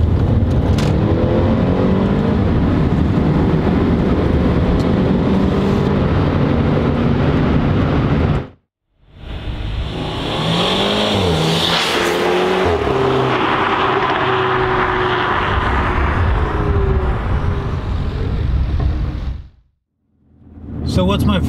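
A Mercedes A250 A-Class accelerates hard in second gear in manual mode, its engine and exhaust note rising loudly from inside the car, broken by two short gear-change gaps, with talking also heard.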